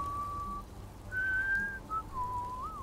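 A character in the video game Fallout 4 whistles a few short, clear tonal phrases with pauses between them, close and alone over a low background hum.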